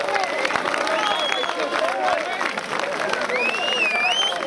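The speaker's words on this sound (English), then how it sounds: "I want to just a little round of applause for the police, please." Applause and scattered cheering from a street rally crowd outside Downing Street in London, steady and fairly loud, with chatter and raised voices mixed into the clapping throughout.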